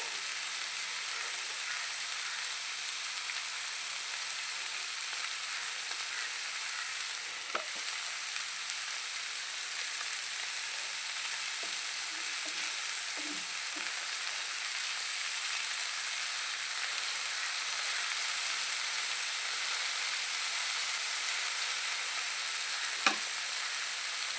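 Sardines fry in a pan with Kashmiri chili powder sprinkled over them, a steady loud sizzle running unbroken with a few faint clinks of stirring and no talk.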